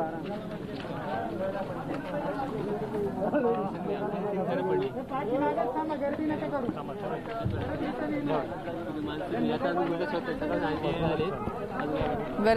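Crowd chatter at a flood-hit market street in Maharashtra, a steady wall of many voices talking at once, close and loud, with shuffling and bustle underneath.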